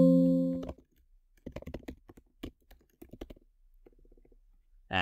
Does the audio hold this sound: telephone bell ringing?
no